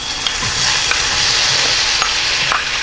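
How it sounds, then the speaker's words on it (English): Shrimp sauté in olive oil in a pan, a loud continuous sizzle with small crackles and occasional stirring taps, close up and without talk. "put that in the pan, and saute these shrimp for about 5 minutes"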